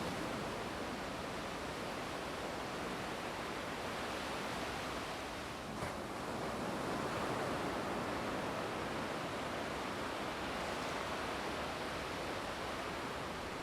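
Ocean surf rolls continuously beside a field along a slate-strewn shore, a steady, even roar of breaking waves with no voices.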